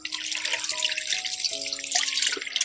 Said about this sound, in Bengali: আবার একবার জল দিয়ে ভালো করে ধুয়ে নেব।